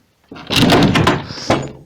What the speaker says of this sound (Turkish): Oğlum bu kapı nasıl açılıyor Nuri?